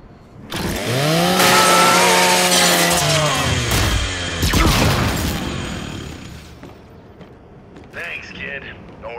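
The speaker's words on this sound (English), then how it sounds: "Hey, kid, do me a favor and scrap that custodial unit for me. Just use your Lancer's chainsaw." In the Gears 5 video game, a Lancer rifle's chainsaw bayonet revs and grinds through a metal custodial robot, a loud rising motor whine with harsh scraping and clanks, then fades to quieter game noises.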